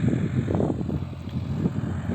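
A Solis RX50 tractor pulling four harrows across a field in spring makes a steady low engine drone with rough, uneven rumbling and wind-like noise throughout.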